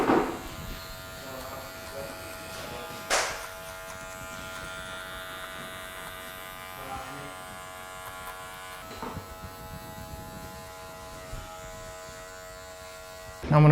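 Electric hair clippers buzz steadily and close while cutting a head of hair, a constant high hum with occasional louder swells as the blade passes, no talk.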